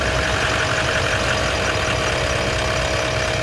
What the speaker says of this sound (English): I'm going to leave my motor running